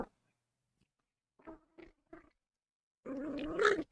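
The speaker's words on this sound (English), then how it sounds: "He's taunting the dog, try to show how rough the dog is, and then Rocky's actually going to bite them" A small dog growls and snaps, a few faint short sounds first, then a louder, rough growl near the end.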